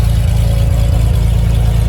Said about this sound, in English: I put my earphones because these engines can be really noisy